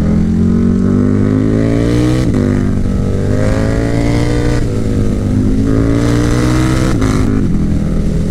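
A KTM Superduke 1290R sport motorcycle engine pulls hard in a loud, continuous roar, with rising and falling pitch sweeps as it accelerates through gears, close and alone throughout.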